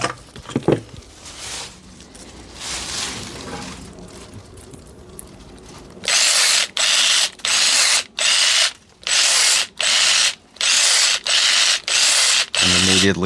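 A Parkside PGSA 14 A1 cordless pruner cuts a branch about 1 cm thick: after a quieter stretch of handling, loud close motor bursts repeat in a regular rhythm of roughly ten short pulses with brief gaps between them.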